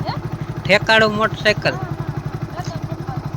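A motorcycle idles close by with a steady, even low putter throughout, while people talk over it.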